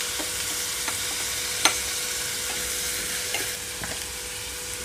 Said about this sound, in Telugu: 2 నిమిషాల పాటు వేయించుకుంటున్నాను ఇక్కడ